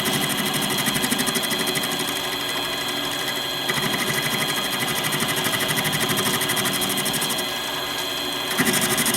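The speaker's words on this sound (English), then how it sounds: "Just a simple facing operation" A milling machine runs steadily through a simple facing operation with an indexable dovetail cutter, giving a loud, continuous whir with a fine rapid texture and a short change in tone near the end.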